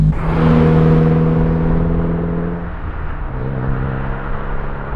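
A 2022-2024 Subaru VB WRX fitted with a Perrin equal length header cruises in sixth gear at about 40 mph, its engine a low, steady drone with a slight dip as the tone shifts, heard from inside the cabin.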